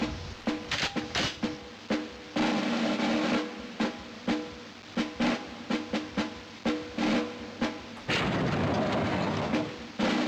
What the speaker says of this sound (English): Ah, a bazooka.